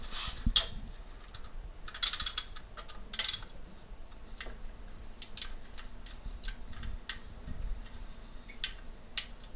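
Ratchet wrench on a 1/2-inch drive loosening tight alternator bolts on a high-mileage Ford F-150 with the 4.6L engine, with scattered metallic clicks, ticks and clunks close by in a quiet garage.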